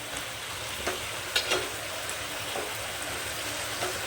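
Ridge gourd frying in a pan of cooked spice masala gives a steady, fairly loud hiss and sizzle, with a few soft stirring knocks.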